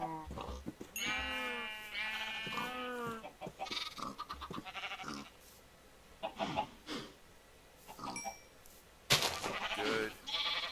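Sheep in a Minecraft farming game bleat repeatedly, a run of close, wavering baas with short clicks and game noises between them and a sharp sound near the end.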